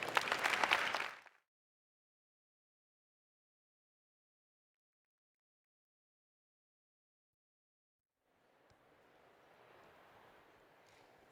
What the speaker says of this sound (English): Another round of applause for Phil.